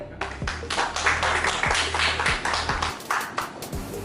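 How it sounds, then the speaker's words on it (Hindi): An audience at a cement company's dealer meet keeps up brisk, continuous clapping, a thick wash of hand claps with distinct sharp hits, sustained at an even level and briefly thinning toward the end. "तालियां रुकनी नहीं चाहिए"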